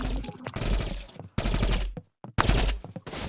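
Rapid gunfire in a video game, dense bursts of automatic shots in several loud volleys with short gaps between them, close and harsh.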